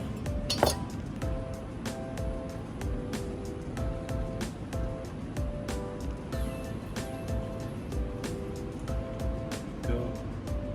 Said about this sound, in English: Whisk. Just to emulsify all those beautiful flavors and textures.